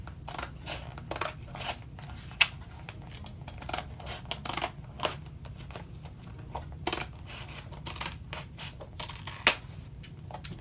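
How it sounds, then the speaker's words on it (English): Scissors cut a square out of a sheet for a Chalk Couture ink project, giving a steady run of close, soft snipping and scraping with a few sharper clicks and no talking. "I'm just gonna cut out a square of the size that I'm gonna need."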